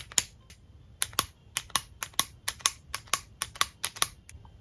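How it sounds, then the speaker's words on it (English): A makeup pen applicator clicked up repeatedly, a rapid series of about fifteen crisp, close plastic clicks in an irregular rhythm, with no talking. "I assume you click it up until the product comes out."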